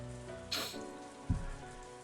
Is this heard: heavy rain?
yes